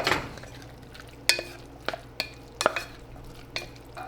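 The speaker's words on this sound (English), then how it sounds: "Mix it up." Pasta tossed with tomato sauce in a pan for steak pizzaiola, heard as a spoon scraping and clinking against the pan in irregular strokes over a faint low simmer.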